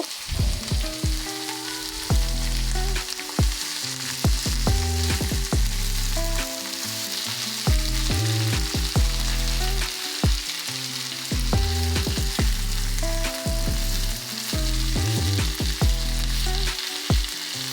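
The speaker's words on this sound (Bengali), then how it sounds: "এবার ওই কড়াইয়ের মধ্যেই সামান্য সর্ষের তেল দিয়ে বেগুনগুলো দিয়ে দেব" Eggplant pieces fry in mustard oil in a wok with a loud, continuous close sizzle, interrupted by brief stirring knocks and clatters.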